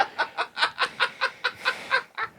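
Chicken clucking sound effect: a quick run of about ten short, evenly spaced clucks, bright and close, alone without any talk over it.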